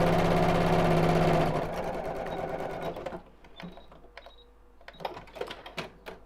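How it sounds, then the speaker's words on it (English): A sewing machine stitches a bag seam in a fast, loud, steady whir for about three seconds, then stops, leaving a few quieter mechanical clicks and taps. "I need to stop sewing again at the same point"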